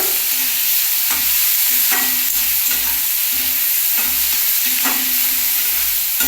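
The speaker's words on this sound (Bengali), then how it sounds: "এইবার টমেটোটা দিয়ে দিচ্ছি টমেটোটার জন্য নুন দেওয়া আছে এগুলো খুব ভরে ভরে ভাজতে হয়" Tomatoes and cauliflower fry in a pan for a spicy semolina dish, a loud close sizzle with repeated rhythmic scrapes of a spoon stirring every second or so, and no voices.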